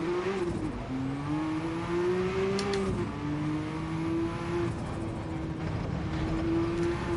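A race car in Gran Turismo 7, driven on a lap in an online lobby, accelerates hard. Its engine drone rises steadily in pitch through the gears and drops briefly at a shift, loud and continuous with no talk over it.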